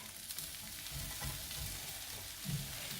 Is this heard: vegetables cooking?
yes